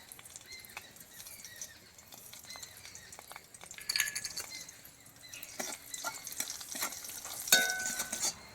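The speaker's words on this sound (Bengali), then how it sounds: "সেই তেলে শুকনো লঙ্কাগুলোকে লবণ দিয়ে ভেজে নেব" Dried red chillies fry with salt in a little leftover oil, giving a faint crackling sizzle with scattered pops and brief stirring scrapes that grow busier toward the end.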